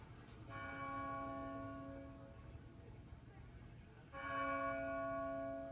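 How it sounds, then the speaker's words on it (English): Church bells of Trinity Church in the financial district toll in two long, ringing strikes with sustained harmonic hums that slowly decay, heard at a moderate distance over a steady low background rumble. "As the bells of Trinity Church began to toll"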